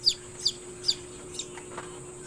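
A chicken gives a few short, sharp clucks at regular intervals, fairly close, over a faint steady hum.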